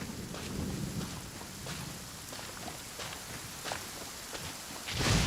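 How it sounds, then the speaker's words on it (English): Rain and thunder in the video game Genshin Impact: a steady hiss of rainfall with low rumbling underneath and a swell of thunder near the end, moderately quiet and continuous with no talking. "Where'd this rain come from?"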